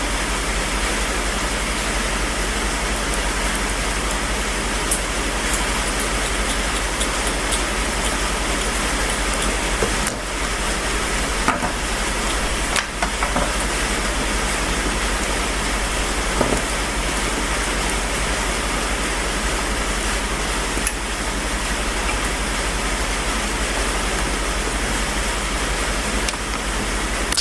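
Steady rain falls outside, a dense, even hiss that holds at constant loudness throughout with a few faint knocks and no speech.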